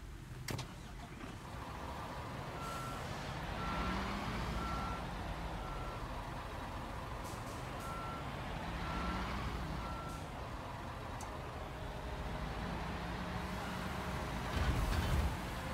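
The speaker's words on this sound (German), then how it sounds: "Ich komme rüber gefahren mit dem Mobilkran." A mobile crane drives through a construction-game setting, its engine droning steadily while evenly spaced reversing beeps repeat for much of the clip, with a louder rumble near the end.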